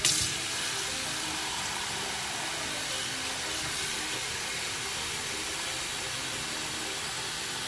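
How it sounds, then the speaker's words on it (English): Water runs steadily from a tap into a pot, a constant hissing rush that continues without a break from start to finish. "and fill it up with water."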